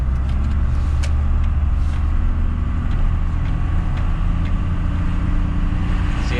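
Inside a first-generation Cummins diesel truck with an automatic transmission, running cold and hanging before a shift, the engine drones loud and steady with a low rumble and road noise throughout, without clear breaks or speech.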